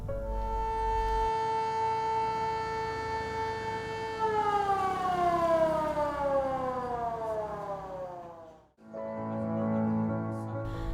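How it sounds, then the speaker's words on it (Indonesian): An old Japanese-era siren marking Islamic prayer time in West Sumatra, Indonesia, wails loudly, holding a steady tone, then slides downward in pitch before cutting out briefly and starting again, heard alone with no voices. "Saat ini sirine Jepang ini digunakan untuk penanda masuknya waktu salat fardu"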